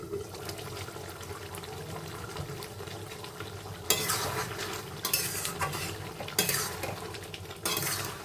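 Bengali-style mutton is stirred in a pot, a low simmering bubble underneath, then loud bursts of scraping and clattering as the spoon works through the meat and strikes the pot.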